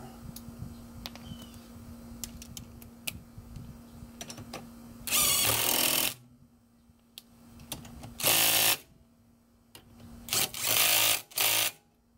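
Ratcheting wrench tightening a 17 mm traction bar bolt on a lower control arm of a 1994–2001 Acura Integra or Honda Civic, heard as several loud bursts of rapid ratchet clicking separated by quieter pauses and faint background hum.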